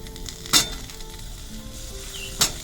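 Potatoes sizzle and crackle softly in hot oil in a pan, broken by two sharp clinks of a utensil against the pan.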